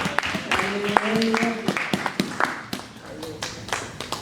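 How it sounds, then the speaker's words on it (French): A church congregation applauding and cheering after a scripture reading, scattered claps mixed with voices and tonal sounds, fairly close and uneven, tapering toward the end. "Est-ce qu'on peut l'honorer par des acclamations?"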